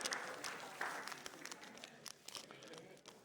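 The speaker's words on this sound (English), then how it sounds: "Give Tristan a round of applause." An audience claps in a church sermon setting, a steady patter of applause with scattered sharper claps that fades off near the end, no voices standing out.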